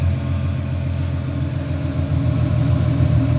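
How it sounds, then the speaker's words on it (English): Turbocharged Xterra dune buggy engine idling smoothly after a new injector was fitted, a steady low rumble with even harmonics that holds loud and close for the whole stretch, with no one talking. "it made a world of a difference. Just a smooth idle."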